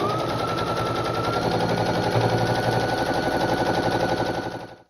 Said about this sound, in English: Now we're sewing our two halves together and our block is almost complete.